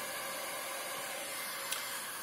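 A hair dryer drawing about 1860 watts from a Fossibot F2400 portable power station blows with a steady, loud, even whooshing hiss that stays constant throughout, with no voices.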